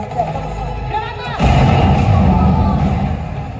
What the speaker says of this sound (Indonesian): Gunner, give us cover fire